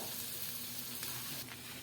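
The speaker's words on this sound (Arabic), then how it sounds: "هنحمرهم." Shrimp fry in a pan with a dense, steady sizzle and crackle, close and continuous with no voices.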